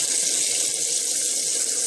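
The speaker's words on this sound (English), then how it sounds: "So now I'm going to run the water on so you can see how hot, what level I bring the water up to." Cold tap water pours steadily into a cooking pot for red beans and rice, a loud, close, continuous hiss and splash with no talking.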